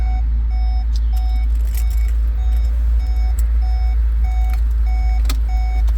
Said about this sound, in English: that's beeping at me because I am in reverse with the door open